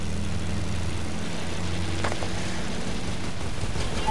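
Steady propeller airplane engine drone in a video game, a continuous low hum with a faint overhead whine, constant and moderately loud throughout with no talk.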